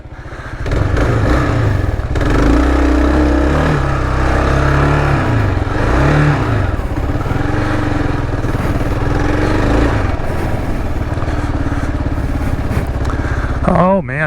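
A dual sport motorcycle rides through sloppy mud on an early-season ride on Prince Edward Island, its engine droning loud and steady with surges and rising revs, wind noise throughout.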